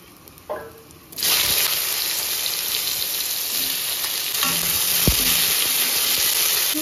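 Taro stolons drop into hot oil already seasoned with cumin, radhuni and garlic, setting off a sudden loud, steady sizzle that keeps crackling after a faint clink at the start.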